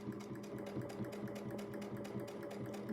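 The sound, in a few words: sewing machine running fast while free-motion quilting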